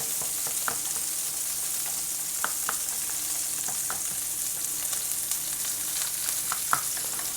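Sauce in a pan over the heat, a quick hollandaise, gives a low steady sizzle with scattered light taps and scrapes of stirring, close but fairly soft, with no one talking.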